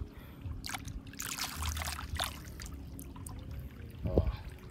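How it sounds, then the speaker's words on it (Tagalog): Water pours and splashes onto young transplanted red onions in a drying field, a faint, steady rushing trickle with scattered bursts of splashing and a brief gurgle near the end. "Kaya pinatubigan ko na po mga kabukid dahil natutuyo na yung lupa."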